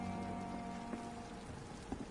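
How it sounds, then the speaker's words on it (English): Steady rain falling in the video game Vampyr, a soft continuous hiss with faint scattered drops and a few small taps, heard alone without talk. "And it's raining."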